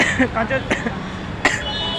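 A person coughing outdoors near Kanchenjunga Stadium, a few short harsh bursts spaced apart, close and fairly loud over a busy background murmur.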